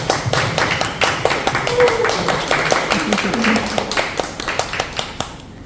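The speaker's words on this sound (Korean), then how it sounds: "큰 박수로 두 분 많이 주시면 감사하겠습니다." An audience at a rooftop film screening applauds the director and lead actor with a burst of individual claps, close and fairly loud, thinning out and fading at the end while faint voices murmur underneath.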